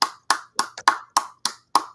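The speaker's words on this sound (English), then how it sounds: "I need y'all to give a round of applause" A single pair of hands claps about seven times, sharp and close, in an even, unhurried rhythm with clean silence between each clap and no voices over it.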